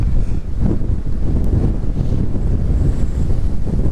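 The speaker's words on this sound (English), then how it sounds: "I gotta get out of this headwind" A strong, cold headwind buffets the microphone while bass fishing from a boat, a loud, continuous rumbling roar with gusty swells and water sloshing beneath.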